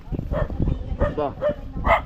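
A dog gives several short barks and yelps at a birthday gathering, mixed with people talking nearby.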